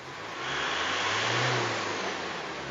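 An Isuzu diesel engine revs up steadily and loudly, swelling to a peak at mid-clip and easing back off, a close, continuous drone with no voices.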